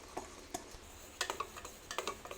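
Chocolate cake batter stirred after black coffee is poured in, heard as soft irregular clicks and taps of a utensil against a bowl, faint and close, with a quick flurry near the middle.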